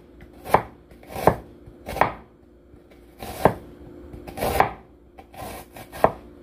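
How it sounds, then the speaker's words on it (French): A knife chops an onion finely on a cutting board, giving seven sharp, evenly spaced knocks at close range with short quiet gaps between them and no talking. "Zonyon nan fin rache"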